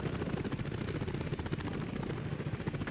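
Helicopters fly in the Workers and Resources city-building video game, a steady, fairly quiet rotor chop that pulses evenly throughout with no voices.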